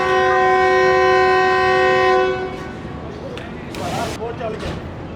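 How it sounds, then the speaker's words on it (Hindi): Attock Safari train pulls out of Golra Sharif Junction station in Pakistan, its horn blaring loud and sustained for about two seconds, then fading to a rumbling rolling noise with a few bursts of hiss. "अटक सफारी ट्रेन हमारे निकल रही है गोल्डा शरीफ जंक्शन रेलवे स्टेशन से"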